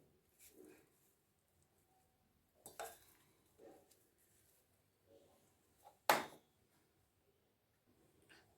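Paneer pieces tossed with masala and salt in a bowl, giving a few light scattered clinks and scrapes of a spoon against the dish, separated by quiet pauses, with one sharper clatter near the end.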